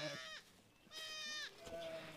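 Young lambs bleat in a bright, wavering chorus during sheep shearing in a jungle setting, with several overlapping calls in two or three bursts close by and a little background voice.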